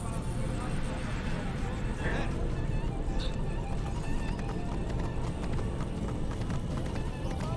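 Horse hooves clip-clopping at a run in the video game Assassin's Creed Origins, set in ancient Egypt, a busy steady patter under game noise and someone talking over it.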